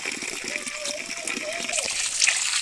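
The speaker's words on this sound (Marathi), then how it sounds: "आता आपण ही ना चांगली धुवून घेऊया" Spring onion greens being rinsed in water, a close steady splashing and sloshing that builds slightly louder toward the end, with no talk.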